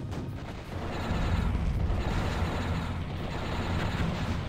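A Dante unit fires double cannon shots in a Zero-K real-time strategy battle, giving deep rolling booms over a continuous rumbling battlefield din that swells after the first second and stays loud.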